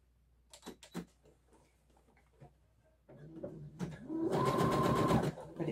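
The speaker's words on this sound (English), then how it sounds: "But you can only sew a little bit at a time." A sewing machine stitches a dress sleeve seam in short bursts: a few faint taps first, then a steady, fast mechanical whirr that runs loud for about two seconds near the listener.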